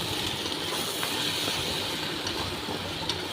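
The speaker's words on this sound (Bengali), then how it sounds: "গরম করে রাখা জল আছে জলটা আমি দিয়ে দেব" Hot water poured onto meat cooking in a pan lets out a steady, broad hiss, close and alone, continuing evenly throughout.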